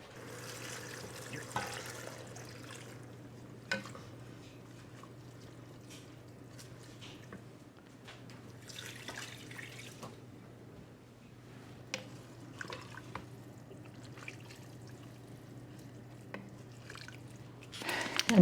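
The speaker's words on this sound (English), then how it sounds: "add some water." Water measured and poured into a pot of collard greens, with a soft trickling stream and scattered drips running steadily for a long stretch over a low constant hum, close by with no talking.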